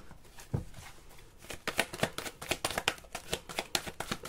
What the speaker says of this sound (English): Just doing a quick shuffle.